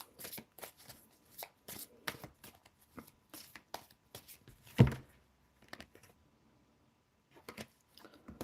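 Tarot cards being shuffled up close, a series of quick papery riffles and flicks in bursts, with one louder thump and a short pause before a few final riffles.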